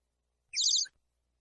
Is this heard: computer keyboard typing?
no